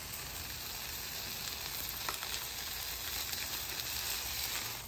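Chorizo potatoes fry on a flat griddle set to medium-high, giving a steady, even sizzle with faint crackles and no voices.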